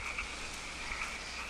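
Frogs croak softly near creepy graves in the Kentucky Route Zero game, a brief stretch of low repeated croaks over a hushed, steady ambient drone.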